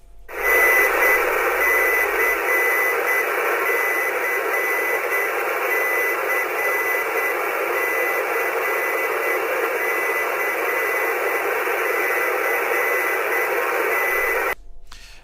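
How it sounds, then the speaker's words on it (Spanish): Morse code signal from a radio beacon station, steady and continuous over a hiss of radio static, loud and alone with no voices, cutting off abruptly near the end. "Sí, lógicamente eso es código Morse, ¿no? Está diciendo la letra C."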